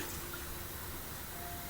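Water being poured or filled in a kitchen for cooking gushes in a steady continuous stream, close and even, with no talking.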